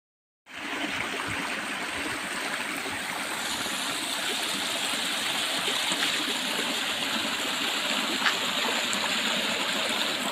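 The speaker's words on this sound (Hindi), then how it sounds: "हमें रास्ते में एक सुंदर छोटा सा झरना भी मिला, जो ऊपर से पानी बह के आ रहा था नर्मदा जी के किनारे ही।" A small waterfall spills down the bank of the Narmada river, a steady, close rushing of flowing water that holds evenly throughout after a brief silent start.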